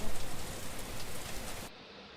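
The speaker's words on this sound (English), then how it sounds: "The rain looked like it has been raining non-stop since yesterday." Rain pours steadily in a video game scene set at a mountain villa on a rainy night, a dense continuous hiss that cuts off sharply near the end.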